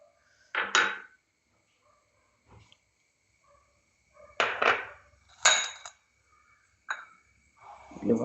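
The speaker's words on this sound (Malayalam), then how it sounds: "ഇത് ഉപ്പിട്ട് ഓരോ സാധനങ്ങൾ ഇടുവാണ്." Salt and spices are dropped into a cooking pot, giving several sharp clinks and scraping clatters in short separate bursts with quiet gaps between them, close and fairly loud.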